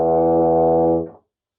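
A brass instrument holds one sustained, steady tone for about a second as the opening of a Herbert Clarke technical study, then cuts off cleanly into silence; the note is close and loud, with no voices.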